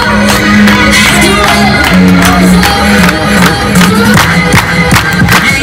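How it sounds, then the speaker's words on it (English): A street crowd in midtown Manhattan at night claps and cheers loudly and continuously, with whoops and shouts over a steady rhythmic beat of hands and a low musical tone underneath. "Everybody clap, everybody clap, everybody clap"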